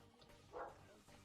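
A pet dog lets out a single bark at mid-distance, a short burst rising above a steady background of game music and ambient noise.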